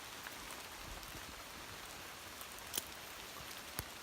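Steady outdoor rain falls in an even, faint hiss, with scattered drops tapping on a surface nearby and no voices.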